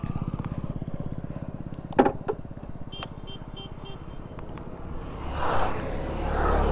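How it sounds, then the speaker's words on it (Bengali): A Royal Enfield-style RS motorcycle engine idles with a steady low thump, then revs and pulls away with rising engine noise, accompanied by a few clicks and rattles near the start. "এখন বাড়ি থেকে বার হয়েছি আমি আর ইজাজের আরএসটা নিয়ে যাচ্ছি"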